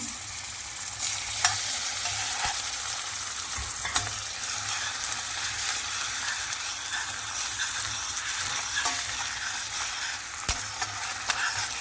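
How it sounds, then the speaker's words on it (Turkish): Butter melting and sizzling in a hot pan for a Turkish trileçe caramel sauce, a steady bright frying hiss with occasional scraping clicks of stirring, close and continuous. "Şimdi hemen tereyağını atıyorum."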